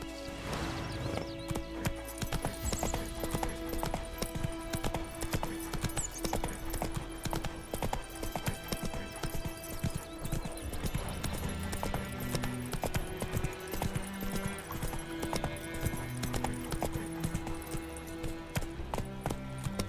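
Roach the horse's hooves clip-clop steadily through The Witcher 3 game world, a brisk continuous trot with occasional whinnies, set under a dense layer of background music throughout.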